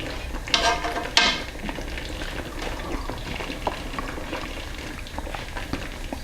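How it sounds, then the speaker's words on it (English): Tomato sauce for spaghetti and meatballs simmering in a pot: soft steady bubbling and popping, with a few brief clinks and hisses near the start, close and low in level with no talking. "our sauce has now been simmering for about 15 minutes"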